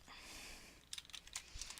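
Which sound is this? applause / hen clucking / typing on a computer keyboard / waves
typing on a computer keyboard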